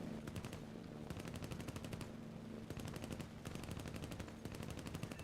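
Aircraft machine guns in War Thunder rattle in several sharp rapid bursts, separated by short pauses over a constant engine drone.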